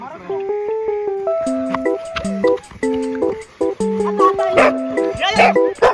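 Dogs bark and yip outdoors in rainy weather near a local market, giving a run of repeated, high-pitched yelps and whines that rise and fall in quick succession, fairly loud and close.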